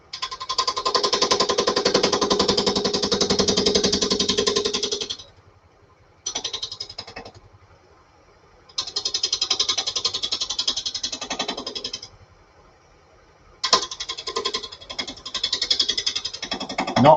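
Gouge taking steady cuts on a spinning wooden heart-shaped box blank on a lathe, a loud sustained rough cutting noise in several long bursts separated by quieter pauses.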